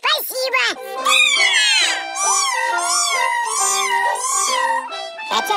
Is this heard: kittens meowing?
yes